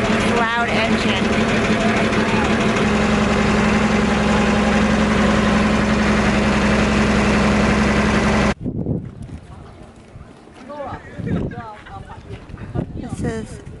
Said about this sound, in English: Loud engine.